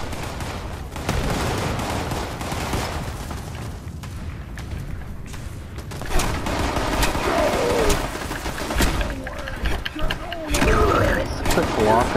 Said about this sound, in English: Who the heck is shooting me?